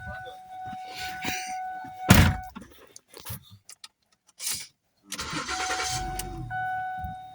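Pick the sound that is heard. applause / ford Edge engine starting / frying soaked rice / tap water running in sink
ford Edge engine starting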